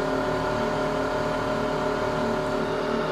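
The motor of a Union Graduate wood lathe on a variable frequency drive spins up to full speed with a steady, dense whirring hum and layered tonal whine, constant and fairly loud.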